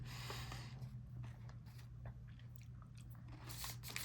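Close, quiet biting and chewing of a Feastables milk crunch chocolate bar, with a few crisp crunches over a faint low hum and no talk.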